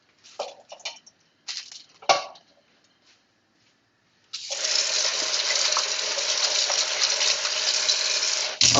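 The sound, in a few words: washing food under running water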